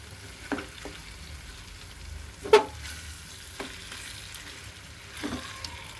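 Fish sizzles softly in a frying pan while being flipped, a low steady crackle punctuated by a few sharp clatters and scrapes, with no one talking.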